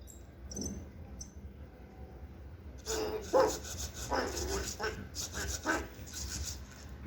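EMO desktop pet robot imitating a dog, giving a series of short, yappy synthetic barks in a quiet room after a brief soft chirp.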